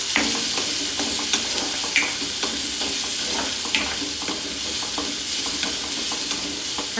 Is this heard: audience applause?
no